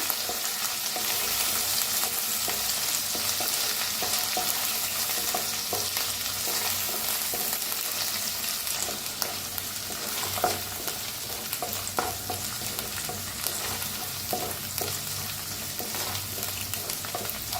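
Ground masala with curry leaves dry-roasting in a pan for a stuffed tomato dish, a continuous sizzle with scattered clinks and scrapes of stirring, close and steady, no one talking.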